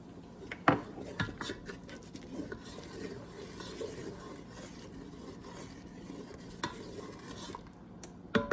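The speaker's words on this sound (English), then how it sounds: "So I'm reducing the liquid in here" Liquid simmering and reducing in a pan for a beef dish, a soft continuous bubbling hiss with a few sharp utensil knocks, fairly quiet and close.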